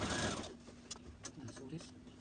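A sewing machine runs a 5/8 seam allowance on a red zip-front jumpsuit, its motor a steady whirring hum with small ticks, while a voice talks over it.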